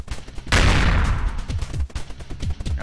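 Enemies firing in a Windows 7 shoot-'em-up game where ships are being protected, with a loud burst of gunfire erupting after a brief pause and rattling on as rapid repeated shots to the end.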